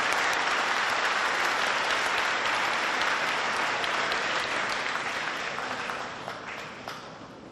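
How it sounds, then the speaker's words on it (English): A banquet audience gives sustained, dense applause for scholarship recipients and their donors at a high school academic awards event, broad and steady before gradually thinning toward the end. "If you could give our recipients and our donors one more round of applause."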